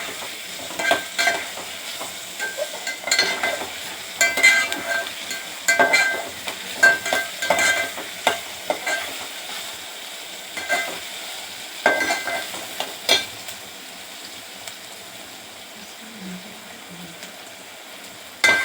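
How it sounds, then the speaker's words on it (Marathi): Onion sautéing in a pan for a chickpea-greens dish, with a steady close sizzle of frying and frequent scraping, rhythmic stirring strokes that fade toward the end. "कांदा चांगला भाजेपर्यंत परतत राहायचं।"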